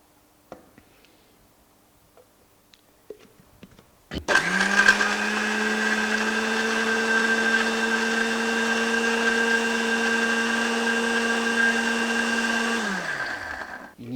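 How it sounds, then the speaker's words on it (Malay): A blender grinding lemongrass with water kicks on loudly after a few quiet seconds of small knocks, whirs steadily at high speed for about nine seconds, then winds down as it switches off. "kita masukkan dalam blender kita"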